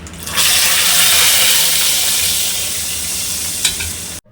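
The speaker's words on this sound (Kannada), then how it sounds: "2 ಸ್ಪೂನಷ್ಟು ಎಣ್ಣೆ, ಸಾಸಿವೆ, ಕರಿಬೇವು ಇವಿಷ್ಟು ಚಿಟ್ಕುಡಿಸಿ ಸಾಂಬಾರಿಗೆ ಸೇರಿಸ್ಕೊಳ್ಳಿ" Hot oil with mustard seeds and curry leaves sizzling as tempering poured into sambar, a loud close hiss that surges in and slowly fades, with a brief clink before cutting off.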